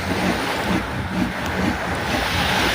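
Ocean waves at a beach, a steady broad wash of surf mixed with wind buffeting the phone microphone, continuous and fairly loud with no talk.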